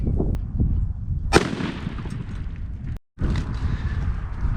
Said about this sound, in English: now we're gonna shoot the 3-inch Federal Premium turkey loads, 5-shot for the 12 gauge